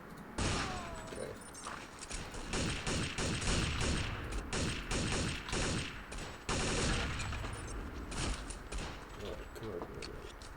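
Rapid bursts of video game gunfire from a recoil-focused shooter, cracking in repeated clusters at close range throughout, with a player talking over the shots.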